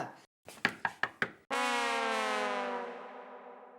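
Five sharp knocks rap on a door in quick succession, close and loud, followed by a long wailing siren-like tone that slowly fades.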